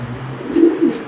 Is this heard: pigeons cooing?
yes